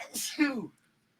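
A single sharp human sneeze up close, a quick breathy burst followed by a voiced tail that dies away into silence.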